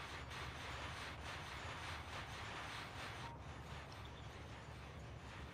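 A train runs along the track in Factorio, a faint, steady rolling rumble with light rhythmic clatter, heard alone and unbroken.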